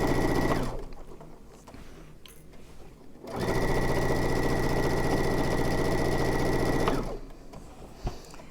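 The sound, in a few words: sewing machine stitching a hooded towel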